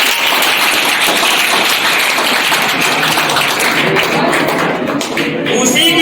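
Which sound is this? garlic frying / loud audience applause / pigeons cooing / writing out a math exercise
loud audience applause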